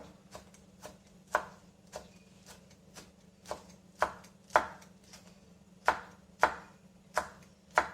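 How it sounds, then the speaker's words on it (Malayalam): A knife chops green chillies on a cutting board with sharp, close knocks at an uneven, steady pace, about fifteen strikes, with no talking. "പച്ചമുളകും ഏറ്റവും ചെറുതായിട്ട് തന്നെ മുറിക്കുക."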